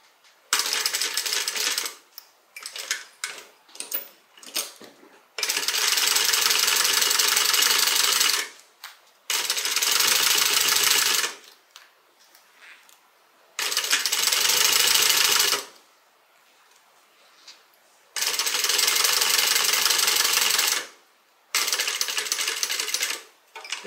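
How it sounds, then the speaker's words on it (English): Sewing machine stitching a quilted tote bag, running in several long steady bursts of a few seconds each, separated by short pauses and brief stop-start stitches, close and loud with no talking. "and then I'll start sewing."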